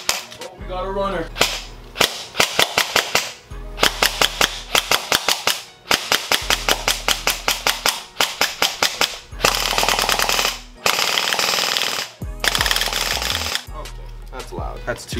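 A Classic Army VCW airsoft gun fires repeated rapid bursts of sharp, snappy shots, each string separated by short pauses, loud and close throughout.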